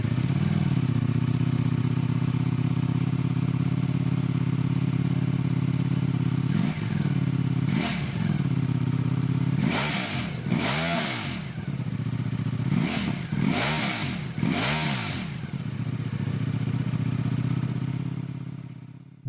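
A Ducati Streetfighter V4 S with its 1103cc Desmo Sedici Stradale V4 engine idles steadily, then gives several short, sharp revs, the last four coming close together, all nearby and loud.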